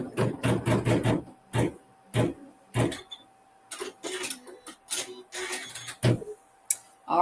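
A sewing machine stitching a tack-down stitch, heard as quick mechanical bursts of clicking and whirring that start and stop irregularly, close and fairly quiet with short pauses between runs.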